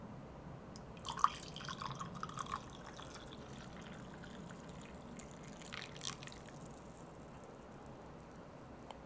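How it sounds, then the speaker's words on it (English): Coffee being poured into a new dripper: a faint, close trickle and dripping of liquid, with a brief sharper drip early on and a quieter, steady flow afterward. "So let's pour the coffee."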